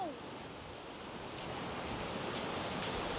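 Ocean surf washing against a beach where fishermen are hauling in a pukot net, a steady, loud, close rush of breaking water with no pause.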